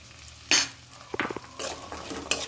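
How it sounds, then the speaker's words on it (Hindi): Green peas and finely chopped ginger fry with onion in a pan on a medium flame, heard as a few distinct scraping stirs and light clinks of a spoon against metal over a faint background sizzle. "इन्हें भी अच्छे से प्याज के साथ ही हमें भून लेना है।"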